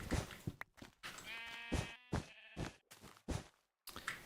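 Sheep bleating in the Minecraft video game, several wavering bleats in close succession with short gaps between, clear and up close with no talking.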